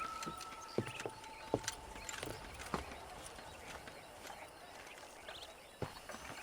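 Horse hooves clip-clop in Red Dead Redemption, with a few sharp, separate hoof strikes spaced irregularly over a quiet ambient game background, faint and moderately near.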